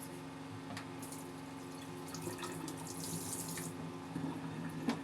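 Tap water runs steadily into a sink while a plantain is washed before peeling for porridge, a quiet continuous stream with a faint hum and occasional splashes as it is handled, with no talk.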